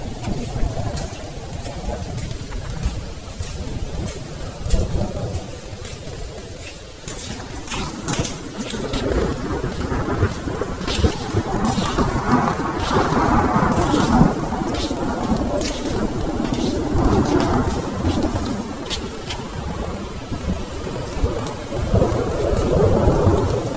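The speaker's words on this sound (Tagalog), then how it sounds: "Oh God, naulanan ako." Steady rain pours down with broadband hiss and patter across the whole stretch, while low rumbles of thunder roll underneath, the storm sounding fairly close and continuous with no voices over it.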